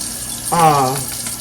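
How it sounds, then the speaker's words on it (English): Tap water running into a pan of flour and soup mix in a home kitchen, a single short pour of about half a second, close and moderately loud, alone without talk. "I'm just putting water in this flour and"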